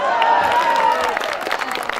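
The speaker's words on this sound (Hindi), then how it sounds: "नाजिम साहब का कहना है मेरे लिए तालियां बजा दो।" Audience at a mushaira poetry gathering in Faridabad breaks into scattered clapping and murmuring crowd noise, rising toward the end, while a voice speaks over it early on.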